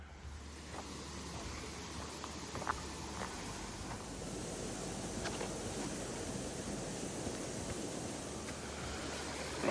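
Steady broadband rush of water from above the main fall of a waterfall on a woodland walk, continuous and moderately distant, with no voices.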